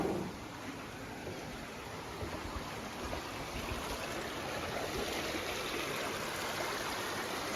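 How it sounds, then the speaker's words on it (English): Steady rushing and burbling of flowing creek water near Bryson City, North Carolina, continuous and fairly close, with no voices. "Sit out here and listen to the water."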